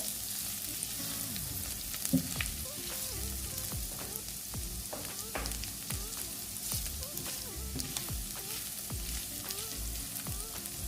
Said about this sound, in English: That saute for a good little 3 minutes or so.